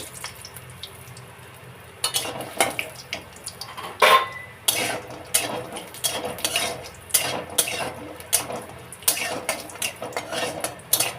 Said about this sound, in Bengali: এরপরে এই বড়িগুলো নিলাম, এই বড়িগুলো ভেজে নেব